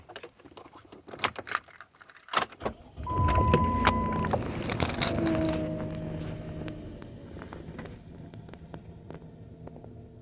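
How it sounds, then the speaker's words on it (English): Van starting up after clicks and handling noises, the engine catching and settling into a steady idle hum that slowly fades, with scattered taps around it. "So I turned the van on."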